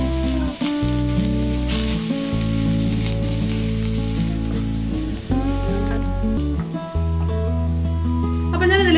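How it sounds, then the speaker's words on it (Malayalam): Chopped onion sizzles in hot sunflower oil for a colocasia cutlet recipe, a steady hiss heard beneath continuous background music throughout. "നമുക്ക് ഇതിലേക്ക് ആദ്യം സവാള ചേർത്ത് കൊടുക്കാം."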